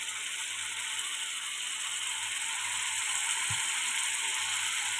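Goat meat dropped into hot oil spiced with coriander, ajwain and garam masala, giving a faint, steady sizzling hiss with a soft low thump partway through.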